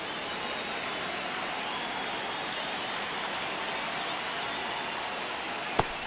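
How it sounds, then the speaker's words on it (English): Steady rain falls during a baseball video game, an even, constant hiss of drops throughout with one brief sharp click near the end and no talk. "It feels like we might be headed towards a rain delay if the weather doesn't ease up, Chris."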